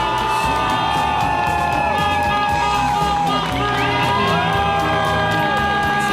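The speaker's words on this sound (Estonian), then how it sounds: "Ja milline aplaus!" A crowd at a motorsport awards event applauds, cheers and whoops loudly and continuously, with a voice over a loudspeaker and music going on beneath the noise.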